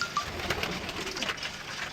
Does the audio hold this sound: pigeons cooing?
yes